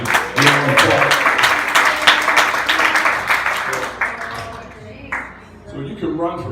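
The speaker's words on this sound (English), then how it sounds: "Clap your hands to the Lord." A church congregation claps their hands during a service, a loud dense wash of clapping that thins out and fades, with voices speaking over it and a short bright tone near the end.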